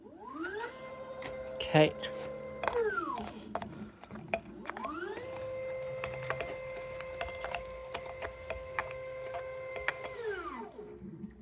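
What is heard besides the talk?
Matrix gen 5 filler machine running a fill cycle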